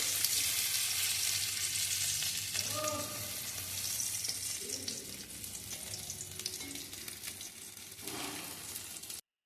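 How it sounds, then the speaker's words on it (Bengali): Potatoes frying lightly in a pan give a soft, steady sizzle close by, with faint clattering now and then and a few brief murmurs of voice in the background. "আলুগুলো একটু হালকা ভেজে নিতে হবে"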